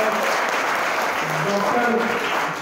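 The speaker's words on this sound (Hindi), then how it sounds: "मैं चाहूँगा इनके लिए जोरदार तालियां बजाना चाहता हूँ" Audience applause at an award ceremony, a steady dense wash of clapping with voices talking over it, holding level throughout.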